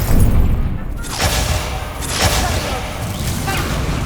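Incendio fire spell cast during a Hogwarts Legacy duel, heard as loud, dense bursts and booming whooshes that come in waves, with battle noise in the background.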